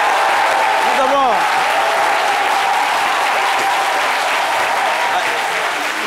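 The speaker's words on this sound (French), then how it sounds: "je voudrais ici qu'on applaudisse très très fort et dire merci au peuple Yakuba" Audience applauding loudly and continuously on a midday television show, a thick, even wash of clapping from a sizeable crowd with faint voices mixed in.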